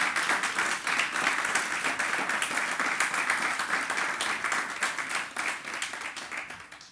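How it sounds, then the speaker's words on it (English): An audience at a United Nations Jamaica partnership forum claps steadily for a speaker, a dense, sustained round of applause that fades slightly toward the end, with no talking over it. "Please give him another round of applause."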